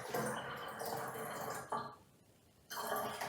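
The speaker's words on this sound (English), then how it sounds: "So we're going to put in some vinegar next." Vinegar pours into a container as a steady, splashy liquid hiss that breaks off briefly and then resumes, close and moderately quiet.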